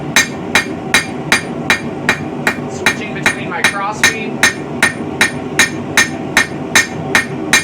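A hammer strikes a medieval-style bodkin arrowhead on metal in a steady, loud rhythm of about two blows per second, flattening the hot iron while someone talks over the ringing hits.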